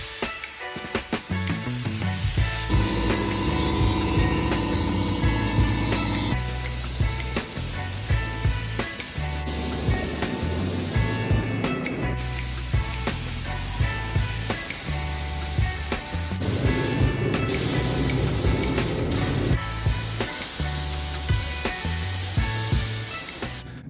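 A spray gun hisses out paint over the body of a wrecked 2020 Subaru STI being rebuilt, in long continuous bursts separated by brief pauses, loud and close, with no voices.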